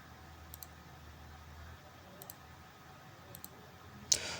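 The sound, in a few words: computer mouse clicking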